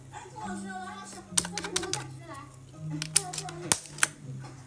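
A mechanical keyboard fitted with white switches is typed on in short bursts of crisp, clacky keystrokes. Irregular clusters of clicks sit close and fairly quiet, over a soft voice in the background.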